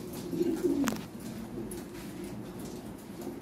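A Lahori pigeon on a Lahori Sirazi pigeon farm gives one low coo early on, followed by a faint background murmur of the flock.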